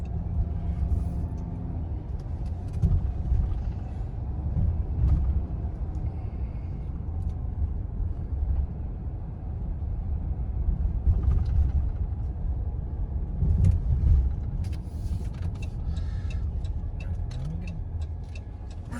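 Car driving through city streets: a steady low engine and road rumble close by inside the vehicle, with occasional faint ticks and clicks over the top and no talking.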